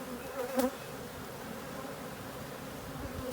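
A dense, steady buzzing of many honeybees fills the air close by, continuous and even with a brief louder swell near the start.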